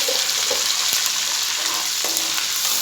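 Whole spices crackle in hot oil in a pan for chicken biryani, a loud, continuous close sizzle with a few faint clicks of a stirring utensil.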